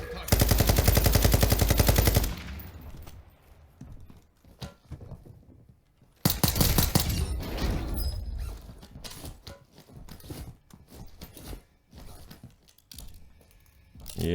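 Rapid pistol fire in a Warzone 2 match bursts out loud and close in two long volleys, the second followed by scattered single shots and mechanical clatter.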